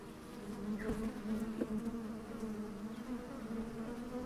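Bees swarm and buzz around beehive boxes opened one by one and sprayed with smoke by beekeepers, a steady, dense drone close by with no voices.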